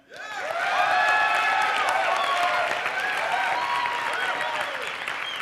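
A crowd cheers and applauds for a contestant in a speed contest, loud sustained clapping swelling quickly and holding with whoops and shouts layered on top.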